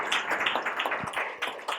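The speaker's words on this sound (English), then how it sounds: "Round of applause there" Audience applause after a conference talk, a short burst of many hands clapping in a dense, steady patter that stays fairly close and lively throughout.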